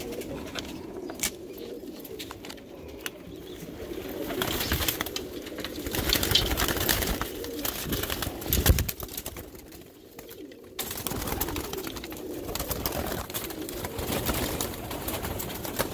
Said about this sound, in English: You will witness these birds bucking through the Sputnik system here.